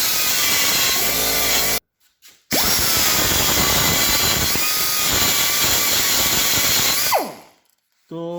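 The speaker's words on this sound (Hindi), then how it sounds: "ये हिस्सा मैं इसको मज़ीद ग्राइंड करके देखता हूँ इसको इस हिस्से में" Rotary burr bit grinding steel with a loud, steady, close high-pitched whine, cut by a brief silence, then a long run that winds down at the end before restarting.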